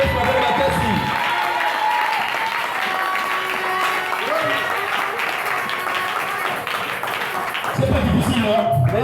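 Church congregation applauding and cheering together in a steady, dense wash of clapping and voices throughout, with a brief voice at the start and again near the end.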